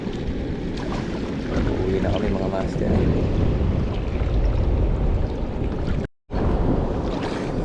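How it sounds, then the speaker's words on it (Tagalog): Heavy sea waves slosh and roar around a small fishing boat out at sea in the rain, a loud, constant wash with wind buffeting the microphone, while people talk over it. "Ang lakas ng alon sa kaulan."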